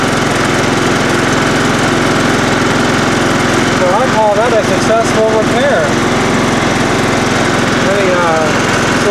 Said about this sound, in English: Let me slow the engine down a little bit.